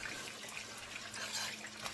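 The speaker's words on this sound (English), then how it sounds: "And so our water is boiling." Water boiling in a small cooking pot, a steady bubbling and hissing wash that stays even and fairly soft throughout, with no voices.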